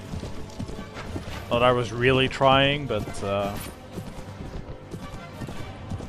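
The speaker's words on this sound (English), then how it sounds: "I think this horse is definitely lame." A horse's hooves clop in a rapid gallop in Mount & Blade: Warband amid battle, with a whinny partway through and someone talking over the hoofbeats.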